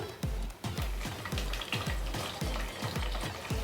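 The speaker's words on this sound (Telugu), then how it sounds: "నెక్స్ట్ వెల్లుల్లి వేయాలి ఈ విధంగా బాగా నల్లగొట్టి వేయాలి నెక్స్ట్ పచ్చిమిర్చి నెక్స్ట్ టమాటా వేయాలి" Garlic, green chillies and tomato frying in a pan for a lady's finger and mango curry, with a loud continuous sizzle and regular rhythmic scraping strokes of stirring, close up.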